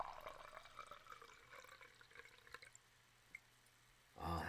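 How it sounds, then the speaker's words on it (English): A drink of Snoop Dogg poured into a jelly glass near the microphone: a quiet, trickling pour that tapers off, followed by a brief louder clatter. "That was a solid pour of Snoop Dogg."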